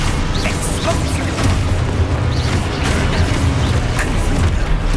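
Spell blasts and magical combat effects from the Hogwarts game, a dense continuous barrage of booming bursts and crackling impacts layered over a rumbling game soundtrack, loud throughout with no clear pauses.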